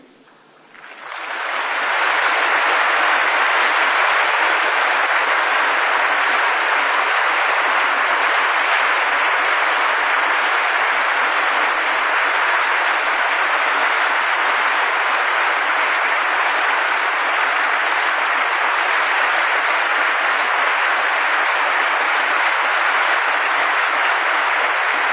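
A large audience at a Christian worship gathering claps in praise, a dense, even wash of applause swelling in within the first two seconds and holding steady and loud for over twenty seconds, with no voices on top.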